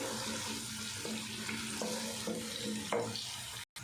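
Onion sautéing in a pan of oil on a raised flame, a soft continuous sizzle with faint stirring scrapes, fairly quiet and with no talking.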